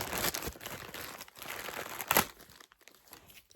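A name label is ripped off a plastic medication container, giving close, loud crinkling and tearing bursts near the start and again around the two-second mark, then quieter rustling.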